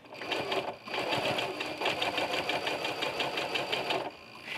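Sewing machine fitted with a walking foot stitching curves on a quilt, its rapid rhythmic needle chatter close and steady, pausing briefly near the start and slowing at the end.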